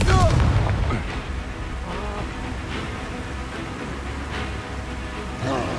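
Confringo blasting-spell explosions boom repeatedly in Hogwarts Legacy combat, heavy thuds landing amid rumbling game noise and a few sharp cracks, with brief shouted spell calls in between.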